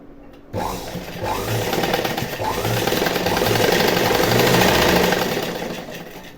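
A sewing machine runs a steady straight stitch along a saree fall, a continuous close mechanical whir with rapid rhythmic needle clatter that starts abruptly and holds for several seconds, no talk.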